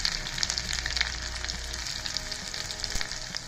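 Lively frying sizzle with pops and crackles of onions hitting hot oil, close and busy, with a low rumble underneath at first.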